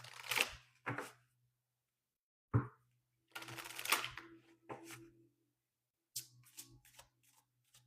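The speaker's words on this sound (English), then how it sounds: "I'm going to pull one more card here." A card pulled from a card deck during a card reading makes several short, crisp papery snaps and riffles in quick bursts, separated by brief pauses, with a faint low hum underneath.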